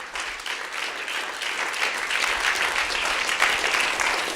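Enthusiastic congregation applause rises during a Spanish-language religious sermon, a dense wash of many hands clapping that swells slightly and continues steadily without speech.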